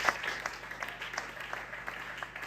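A church congregation applauds together in a sustained, diffuse wash of clapping at moderate volume, with no voices over it.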